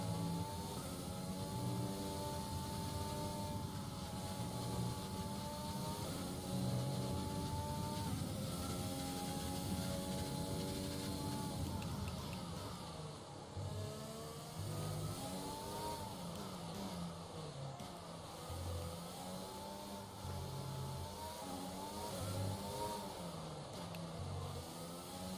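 Formula 1 race cars in F1 2020 on the Mexico or Brazil circuit, loud high-revving engines whining up and down through gear changes, with a second car's engine overlapping close by and no talking.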